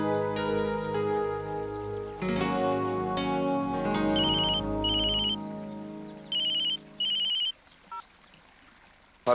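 A telephone ringtone plays for an incoming call in a Tamil TV serial scene, a musical tune followed by several repeated bursts of a high electronic ring, loud and close with no talk over it.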